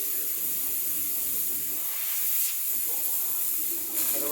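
Steam wand of a Breville Barista Express BES870 espresso machine hissing continuously, a loud, steady broadband spray of steam that holds without pause, with slight surges near the end.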